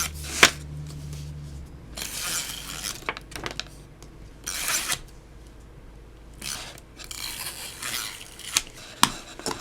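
Adhesive tape being pulled and pressed onto a paper tea bag, with scattered rustling, crinkling and soft tearing bursts up close, no talking.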